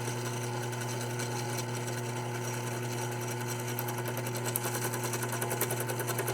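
A Mibro circle cutter in a drill bites into a bar of 6061 aluminum, giving a steady loud mechanical whine with a faint rapid chattering as the cutter engages.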